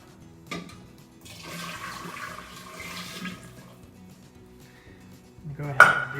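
Simple syrup poured into a serving dish of sparkling strawberry lemonade, a soft liquid trickle with light clinks of glassware, ending in a brief louder clatter.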